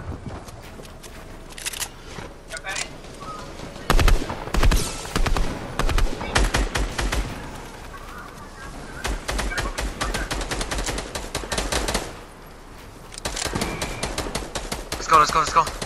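Rapid video game gunfire crackles in dense bursts of sharp shots, with automatic fire in stretches, brief lulls and short pauses between volleys while players talk over it.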